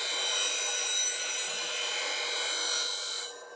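Steady, continuous grinding of a steel bowl gouge tip against a sharpening wheel, a bright rasping hiss held for about three seconds before it tapers off, close and alone with no talk.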